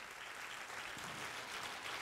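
Church congregation applauding during a sermon, a steady dense wash of clapping that stays even and fairly quiet throughout, with no voices breaking through.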